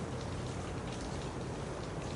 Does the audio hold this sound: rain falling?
yes